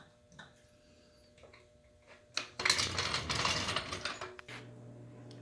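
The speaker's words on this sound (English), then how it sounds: "So next we let down the jack" A car jack is let down after a tire change: a few faint mechanical clicks, then a louder two-second release hiss and rattle that fades into quiet.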